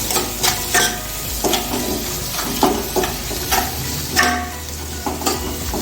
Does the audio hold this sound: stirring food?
yes